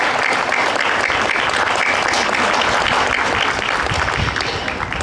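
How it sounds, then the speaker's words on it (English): Enthusiastic crowd applause rises for the band members at an outdoor Batavia Flag Day event. The clapping is thick and continuous for the full stretch, with a few louder individual claps standing out. "One more great round of applause for our awesome band members."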